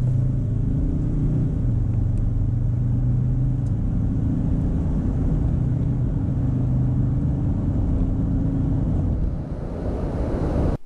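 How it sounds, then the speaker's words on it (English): Inside a 2018 Ford Ranger with the 3.2L five-cylinder engine, a loud, steady low rumble of engine and road noise builds as the truck accelerates from 30 to 70, lasting about ten seconds. "let's see what happens on the 30-70 sprint."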